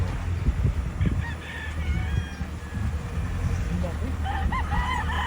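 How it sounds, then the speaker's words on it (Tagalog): Chickens cluck and a rooster crows toward the end on a gamefowl farm with tethered gray roosters in San Pablo, Philippines, set against a noisy outdoor background with faint voices. "Gulang ng mga manok dito."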